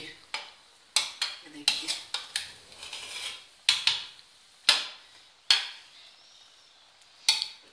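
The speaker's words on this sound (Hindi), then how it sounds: "अब हम इसे सर्विंग डिश में निकालेंगे, चावलों को थोड़ा मिक्स करेंगे।" Cooked chicken biryani rice being scooped from a pot into a serving dish, with sharp metal spoon-on-pot clinks and scrapes in an irregular series, close and fairly loud, and a voice speaking briefly.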